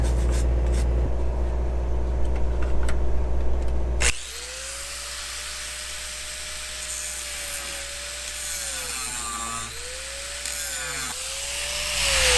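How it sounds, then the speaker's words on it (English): Angle grinder cutting off a tack weld on welded rails: loud harsh grinding for about four seconds, then a high whining tone that dips and recovers as the disc is pressed and eased, close and without talk. "This is just a nasty tack weld I'm grinding off right here."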